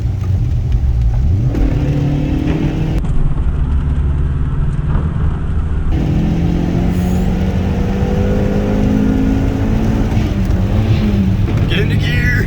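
A 2001 VW Golf GTI with a custom replacement exhaust accelerating through the gears from inside the car, a loud continuous engine roar rising and shifting, with people talking over it.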